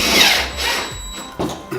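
A power drill drives screws into a bracket for an RV pleated window shade, with short close whirring bursts separated by brief pauses.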